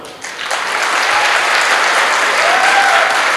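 Men in the audience at a Kannada comedy event burst into loud, dense clapping that swells quickly and holds steady, with a few faint whistles mixed in.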